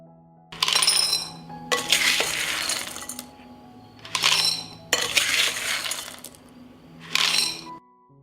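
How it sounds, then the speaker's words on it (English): Filled glass canning jars of pasta set one after another into a metal oven tray, giving several loud clinking, clattering bursts of glass against metal with short pauses between them. "I put the filled jars in an oven tray."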